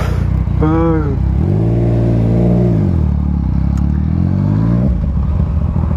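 Motorcycle engine idling and revving close by on a city street, a steady loud rumble with a rise and fall in pitch, while people talk briefly over it.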